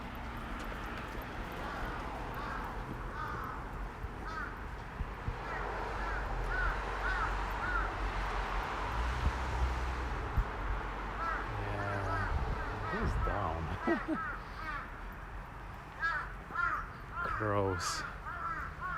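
Crows caw repeatedly in a sunny Tokyo park, scattered harsh calls from near and farther off over steady outdoor ambience, with occasional footsteps and faint background voices.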